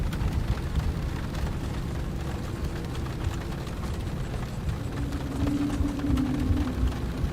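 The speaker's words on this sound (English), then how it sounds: "Wow, the rain is very strong here." Heavy rain pounds down on an Airbus A320neo just landed at Washington Dulles in the X-Plane 12 flight simulator, a dense steady roar with low rumble beneath and a faint tonal hum rising near the end.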